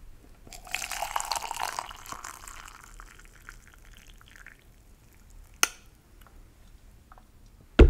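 Hot water pours from a kettle into a tea cup holding a tea bag, a soft trickling stream for about a second and a half that fades out, followed by a faint click and a small tap.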